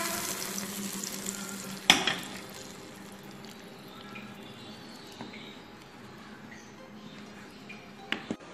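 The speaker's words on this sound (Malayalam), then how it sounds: "അണ്ടിപ്പരിപ്പും കിസ്മിസും വറുത്തത് ഒഴിച്ചു കൊടുക്കാം." Fried cashews and raisins are poured into a hot pan and sizzle with a sharp splash at first, then a quieter steady crackle and faint stirring, ending with another brief clatter.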